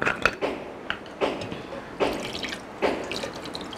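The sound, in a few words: pouring cold water onto boiled lentils to rinse them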